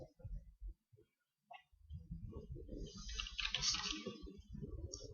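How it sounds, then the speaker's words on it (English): A quick run of small computer mouse and keyboard clicks patters close by while menus are browsed in the Hero Crafters game, with someone talking over the clicking. "let me click on that"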